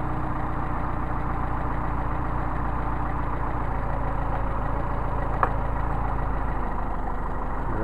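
A Mercedes 190SL engine with Solex carburetors idles too high, giving a steady, close, continuous rumble with an even pulse throughout.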